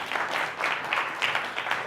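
Audience applause at a talk, steady dense clapping from a crowd of moderate size, continuous and fairly close for about two seconds.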